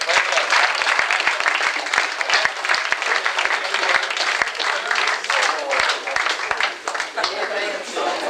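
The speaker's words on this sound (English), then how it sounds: "Clap it up, clap it up, clap it up." An audience at an event applauds with dense, sustained clapping that fills the whole stretch evenly, with a few sharper individual claps standing out.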